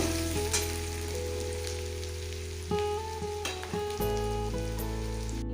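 Chopped onion frying in hot oil on a rainy day, with a loud, continuous sizzle close by and a sustained tonal background of music or hum running under it.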